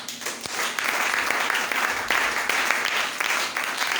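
A church congregation breaks into applause, several seconds of close, dense clapping in waves, with a few louder claps standing out and no speech.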